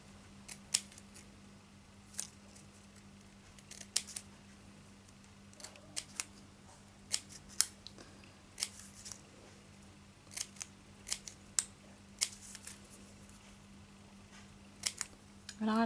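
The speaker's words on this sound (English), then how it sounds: "I'll then just make little snips down one side of it." Scissors make a series of short, sharp snips into paper while cutting fringe for paper flowers, clicks spaced irregularly across the stretch over a faint steady hum, close and fairly quiet.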